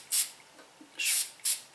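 An Isana water spray bottle with a very fine mist nozzle gives three short, close hissing spritzes, the first and second longer and the last quick, in a quiet room.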